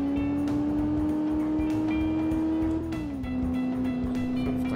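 A Nissan GT-R engine in the City Car Driving game pulls hard under acceleration, a loud steady drone that rises in pitch, then drops briefly as a gear shifts and climbs again, with faint road noise underneath.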